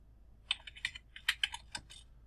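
A systemctl command being typed on a computer keyboard: a quick burst of separate, crisp key clicks in an uneven rhythm, close and clear against a quiet background.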